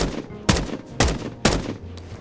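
A gun fires in the Escape from Duckov video game: three loud, separate shots about half a second apart at a slow rate, with a fainter fourth crack at the end.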